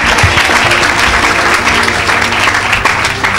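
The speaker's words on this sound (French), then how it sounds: "Est-ce que tu peux acclamer pour le Seigneur?" Loud, sustained applause and cheering from a church congregation, dense and close throughout, filling the whole stretch without a break.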